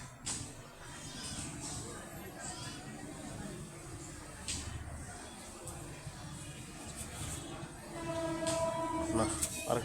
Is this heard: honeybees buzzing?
no